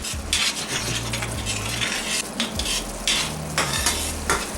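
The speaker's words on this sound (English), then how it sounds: "The oil is now hot, and I'm going to put the marinade in it. And best thing is to keep on stirring." Beef kabob marinade for East African mishkaki frying in hot oil, a continuous close sizzle with repeated metal spoon scrapes and clinks against the pan as it is stirred, no voices.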